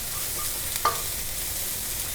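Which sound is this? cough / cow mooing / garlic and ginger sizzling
garlic and ginger sizzling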